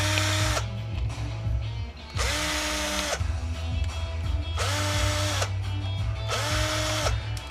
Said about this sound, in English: There's some more screws I can get out.